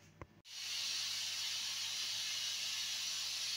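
A Cookeo multicooker pressure cooking lets out a steady, loud hiss of steam that starts abruptly after a brief click and continues unbroken.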